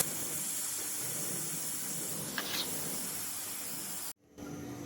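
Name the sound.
steam hissing from pressure cooker whistle being lifted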